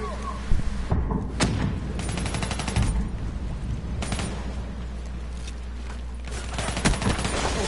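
Gunfire in the first-person shooter Call of Duty Black Ops 3, with repeated shots and thuds in irregular bursts over a steady game soundscape, plus occasional louder bangs.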